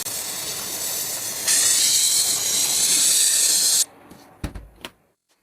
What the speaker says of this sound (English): he sprays these parts with RAL 7024 graphite grey top coat